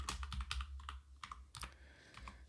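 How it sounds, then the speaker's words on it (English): Quick bursts of keystrokes on a computer keyboard as a command is typed, close and clear clicks in uneven clusters with short pauses, no talking. "I'm just going to type run full pipeline"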